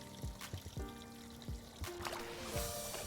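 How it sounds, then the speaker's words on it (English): Water flows and trickles in a carp pond in Nara, Japan, a light splashing pour heard close by with brief irregular bursts, no talk over it. "Can you hear the peaceful sound of flowing water?"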